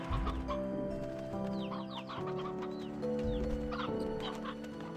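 Hens in the Slime Rancher video game cluck and chirp in short bursts over sustained musical tones, moderately close and fairly quiet, with no speech.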